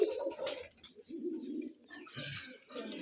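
Pigeons at a pigeon farm coo in soft, repeated low calls, fairly close, with brief chirps and light rustling between them.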